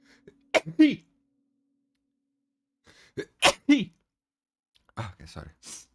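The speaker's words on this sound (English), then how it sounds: "I need to sneeze." A person sneezes close up, bursts at about 0.5, 3.3 and 5.0 seconds, with faint breathy sounds between and no talking.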